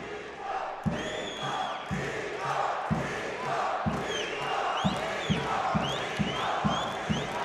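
Home crowd in an arena at a youth world boxing championship semifinal in Yerevan, a dense steady roar of cheering and shouting with sharp rhythmic clapping or thumping bursts repeating throughout.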